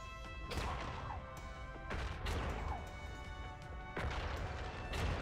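Firework weapon blasts in the space strategy game Worbital, three loud crashing explosions spaced a couple of seconds apart over a dense, rumbling game soundscape.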